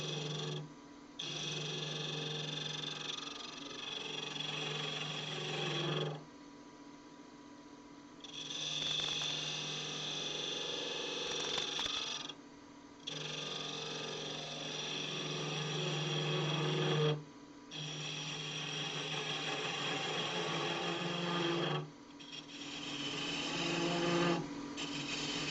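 A wood lathe takes a light skim cut on a long-stem goblet, the tool hissing and whirring in several steady passes of a few seconds each, separated by brief quiet pauses.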